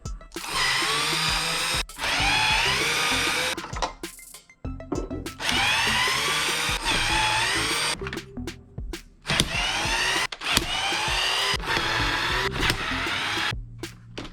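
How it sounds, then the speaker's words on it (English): A power drill backs out mounting screws from the old radio controls in a 2006 Honda Civic, with several loud, close whirring bursts of varying pitch broken by short pauses. "take off these mounting screws for the controls for the radio, for the old radio"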